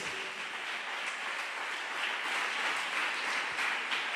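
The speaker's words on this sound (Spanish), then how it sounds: "Bríndale un aplauso a Dios." A church congregation in Valledupar, Colombia gives a round of applause to God during a sermon, an even, continuous patter of many hands clapping at moderate volume with no break.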